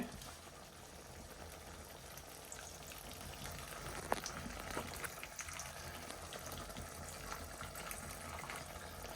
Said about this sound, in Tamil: இப்போ அந்த தண்ணி வந்து ஊற்ற போகிறேன், புளி தண்ணி.